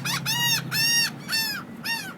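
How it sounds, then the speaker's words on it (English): Seagulls near a beach give several loud, harsh calls in quick succession, each a short nasal cry repeating in a steady rhythm close by, with no talk over them. "but they're the seagulls."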